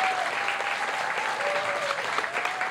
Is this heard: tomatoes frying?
no